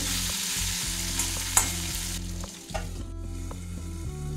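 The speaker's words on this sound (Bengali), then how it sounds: "গ্যাসটা একদম এখন স্লোতে রেখে আলুটা নরম করে ভেজে নেব, খুব ভালো করে ভেজে নেব।" Potatoes seasoned with salt and turmeric sizzle softly in oil in a pan over low gas, a steady low frying hiss with occasional stirring scrapes and a brief clatter partway through.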